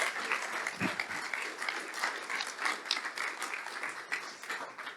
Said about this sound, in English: So I think we can applaud now for this panel